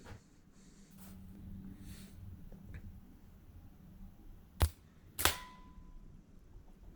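Two sharp cracks about half a second apart from a laminated slingshot being fired, close and loud against a quiet outdoor background.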